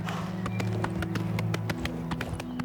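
Horse hooves in the video game Oblivion Remastered clop in a steady, even rhythm over sustained low background tones, close and clear with no talking.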